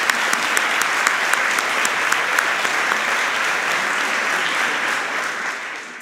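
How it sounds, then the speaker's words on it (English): Sustained applause from a debating society audience, a dense patter of clapping that holds steady for several seconds before tapering slightly. "I think that deserves a round of applause"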